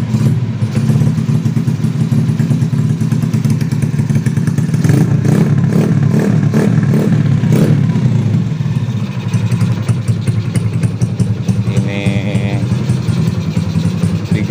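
A Yamaha Jupiter Z motorcycle engine starts immediately and runs loud and close, with throttle blips and revving pulses early on, then a rough, rattling idle with clattering mechanical noise.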